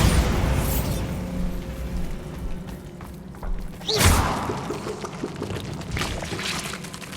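Bombarda blasting spell explosion in the Hogwarts Legacy video game: a sharp, loud blast strikes midway, followed by a rushing, crumbling tail that fades over several seconds amid ambient game rumble.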